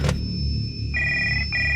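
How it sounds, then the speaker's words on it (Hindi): A telephone rings alone in a quiet room, a steady electronic bell tone sounding in two close bursts with a short gap between them. "फोन बजा।"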